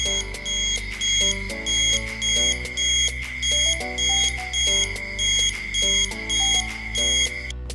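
An ESP32-driven buzzer for a vibration-sensor burglar alarm beeps in a regular repeating pattern, about a dozen loud electronic pulses of shifting pitch at an even rhythm, close and with no talking.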